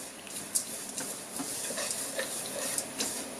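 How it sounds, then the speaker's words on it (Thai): Oats and cashews toasting in a pan over low heat, stirred continuously, giving a soft steady scraping with faint sizzle and a few light clicks, fairly quiet and with no talk. "คั่วนะคะจนข้าวโอ๊ตเป็นสีเหลืองนะคะคั่วกับไฟอ่อนๆนะคะ"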